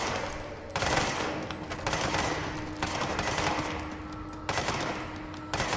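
Sustained automatic gunfire in the video game Control rattles in long loud bursts, with short pauses between volleys and a steady hum beneath.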